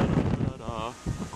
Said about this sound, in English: Of course, it's very windy today.